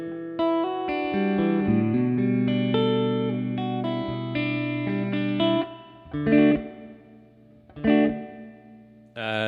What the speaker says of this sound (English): So this is reverb 1.